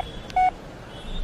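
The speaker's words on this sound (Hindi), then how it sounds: "मुझे खुद ही एम्बुलेंस को फोन कर देना चाहिए" A single telephone keypad tone sounds briefly as someone dials for an ambulance, one clear electronic beep over quiet room noise.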